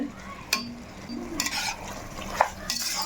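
Biryani masala and curd being sautéed and stirred in a pot for dum biryani. A spoon scrapes and clatters against the pot in close, irregular strokes over a soft sizzle, with no talking.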